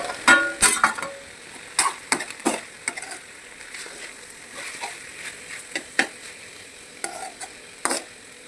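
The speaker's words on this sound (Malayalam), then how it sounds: "എന്നിട്ട് നന്നായിട്ടൊന്ന് ഇളക്കാം." A spoon stirs coconut paste into curry in a pan, making irregular scraping clatters and knocks over a soft sizzle, with no voices.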